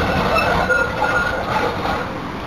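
A train rumbles loudly and continuously at Richmond train station in Melbourne, a broad close roar of wheels and carriages with no talk.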